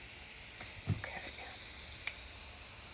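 Sliced onion rings frying in a hot pan give a soft, steady sizzle, with a few brief pops and splashes as pieces are slid into the oil, heard close up.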